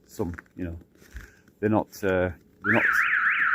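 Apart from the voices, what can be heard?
car alarm beeping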